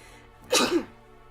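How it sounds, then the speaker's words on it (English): A single short sneeze bursts out close to the mic, loud and breathy, standing alone between quiet moments. "Sorry, that was a sneeze."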